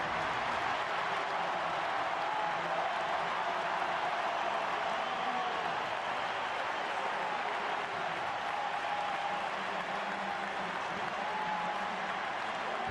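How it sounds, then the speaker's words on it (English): Steady applause from a large stadium crowd welcoming substitutes at the Argentina versus Chile Copa America 2024 football match, a continuous wash of clapping and crowd noise with commentary faintly beneath it. "That applause is to welcome Lautaro Martinez and Angel Di Maria."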